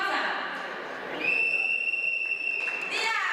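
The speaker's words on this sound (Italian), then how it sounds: "Fischio d'inizio e primo calcio." Referee's whistle blows a long, steady shrill blast to start a charity football match in Treviso, sounding over crowd chatter and cheering.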